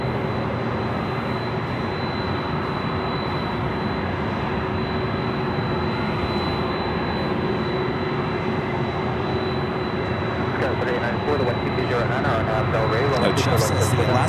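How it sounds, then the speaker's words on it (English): A Delta Boeing 767-300ER jet airliner approaching an airport with a broad, steady engine roar that stays loud and even throughout, and a faint high whine rides on top. "Another Delta 767 heading toward us, if you couldn't hear it."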